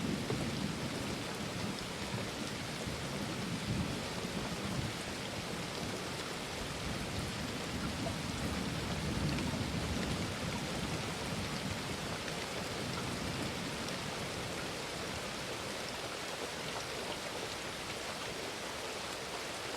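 Heavy rain pours steadily and densely with a constant hiss, while low, muffled rolls of thunder swell in the background beneath it, and no voices are heard.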